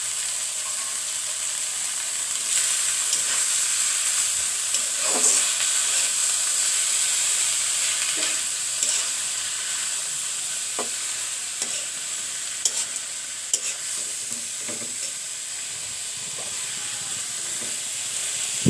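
Cauliflower greens fry in a pan with a steady, close sizzle and hiss, and a utensil stirring through them adds faint scrapes and clinks throughout; nobody speaks.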